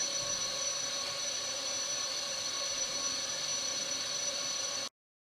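A router with a rabbet bit cutting a zero clearance insert for a Craftsman 10-inch 3HP table saw, a loud steady high-pitched motor whine with a constant hum, running alone for about five seconds and then stopping abruptly.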